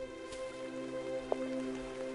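Steady rain patters in a video game, a soft continuous wash with one brief sharp drop partway through, heard alone without voices.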